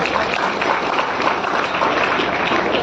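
An audience claps steadily and densely throughout at a children's award ceremony held on a 14 November program in Sarai Akil, Kaushambi. The applause is loud, continuous and close, with no talk.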